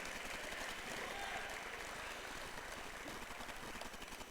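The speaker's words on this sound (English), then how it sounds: "take a round of applause" Steady, dense applause from the audience at a college athletics awards ceremony, holding at an even level throughout with no pauses.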